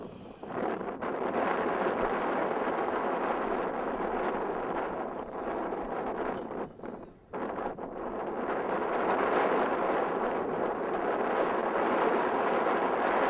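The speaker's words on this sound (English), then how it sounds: "The wind really picking up. As you see, it's blowing from the far side here to the near side." Strong wind gusts across an outdoor soccer field during a youth match, a loud continuous roar of buffeting against the microphone that dips briefly midway before surging back steady and heavy.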